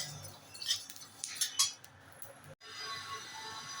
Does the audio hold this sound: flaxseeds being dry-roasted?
yes